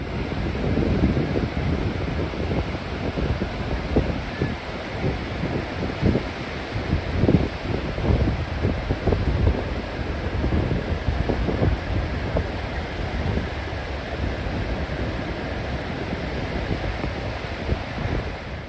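Strong wind at St. Michael's Mount buffets the microphone in constant gusts, with the broad wash of sea surf underneath; no voices, just a loud, unbroken roar.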